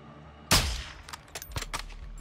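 Sniper rifle shots in Call of Duty: Modern Warfare II: one loud, close shot rings out and decays, followed by several quicker, fainter cracks and echoes.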